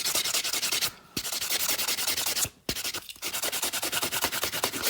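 Sanding pad rubbed hard against a Matchbox '33 Ford die-cast car to strip its paint down to bare metal, making a close, steady run of fast rasping strokes broken by two short pauses.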